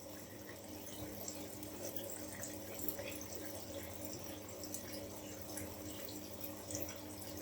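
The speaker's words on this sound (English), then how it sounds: "rinse it off and have a lovely clean brush at the end" A lathered makeup brush is rinsed under a running tap, giving a steady splashing stream of water into a sink. The sound is moderately quiet and continuous, with no talking.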